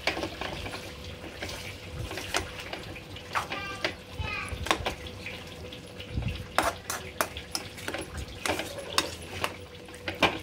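An onion tomato chutney is stirred and mixed in a pan, giving soft wet scraping and tapping of a ladle over a light sizzle, with someone talking over it.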